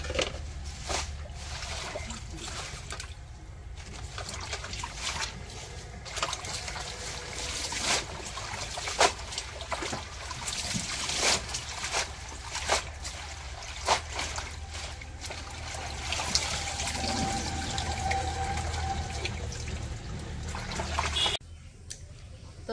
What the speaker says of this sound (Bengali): কাটার আগে আমি আস্তা গুলো একটু ধুয়ে নিই ভালো করে